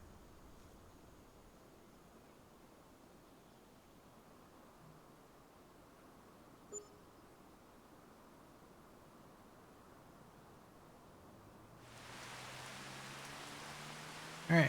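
Rain falls in the farming video game Farming Simulator 25 as a faint, steady hiss, which swells into a louder broadband wash near the end.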